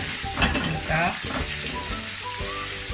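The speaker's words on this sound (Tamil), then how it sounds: "2 மீடியம் வெங்காயம் போட்டு கொஞ்சம் வதங்கட்டும். இந்த வெங்காயம் வதங்கி கொண்டிருக்குது." Thinly sliced onions sauté in a pan for chicken dum biryani, a steady close sizzle with occasional stirring scrapes running through the whole stretch, no talking.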